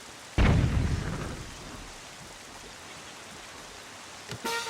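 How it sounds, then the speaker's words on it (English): A sudden loud thunderclap breaks through steady rainfall in the Zelda: Wind Waker video game, then rumbles away over about a second while the rain continues, with a brief burst of game sound near the end. "The rain is not helping."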